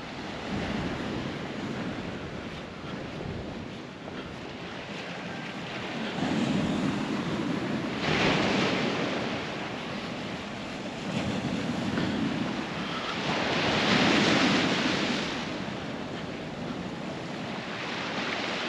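Sea waves wash onto the shore beside a seaside village in southern Crete, a steady surf that swells louder in repeated rushes, with wind noise over the microphone and no talk.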